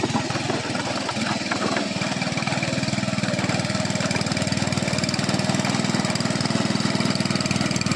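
A mini power tiller engine running close by, a steady, loud rapid chugging putter with a regular beat and no voices over it.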